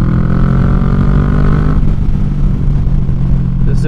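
Kawasaki Vulcan 650 S motorcycle engine droning loudly and steadily while riding, a dense close rumble with a tonal hum that shifts partway through, wind mixed in.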